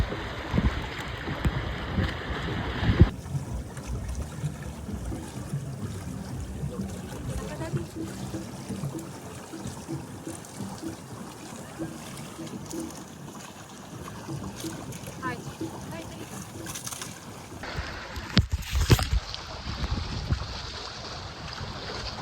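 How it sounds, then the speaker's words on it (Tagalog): Sea waves washing in at Boracay beach in the Philippines, a broad rolling surge mixed with wind buffeting, with people talking nearby at the beginning and end. "Ngayon, lumalakas na yung alon."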